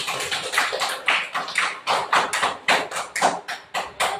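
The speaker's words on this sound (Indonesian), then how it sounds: "Kasih aplaus dulu untuk kelompoknya." A student group in a classroom receives applause: many hands clap together in a steady, rhythmic unison pattern of repeated bursts, close and fairly loud, with no talking over it.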